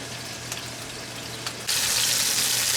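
Fatty pork and beef hamburg steak frying in a pan, a steady close sizzle with a couple of pops before the spattering grease suddenly flares into a louder, hissing crackle.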